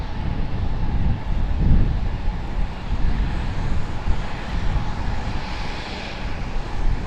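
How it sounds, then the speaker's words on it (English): An Air Canada CRJ jet at Raleigh-Durham airport gives off a broad, loud low roar with a rushing, wind-buffeted texture that swells and holds steady, with no talking. "Get a little pilot cam here on the Air Canada CRJ."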